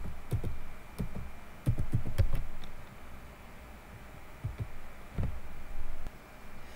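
Someone types a system command into a black Windows 8 command prompt on a computer keyboard, giving irregular clusters of close key clicks with quiet pauses between, and no voices.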